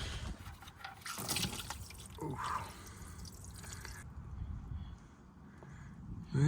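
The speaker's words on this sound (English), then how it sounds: "take all this water and just dump it elsewhere" Water is dumped out of a container beside a 1984 International 484 tractor, splashing and pouring steadily for a few seconds before it stops. A voice briefly exclaims.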